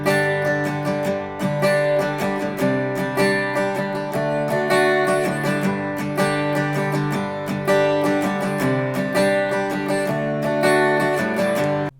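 Acoustic guitar strums a syncopated pattern, bright full chords played alone with steady rhythmic accents and brief dips between strokes.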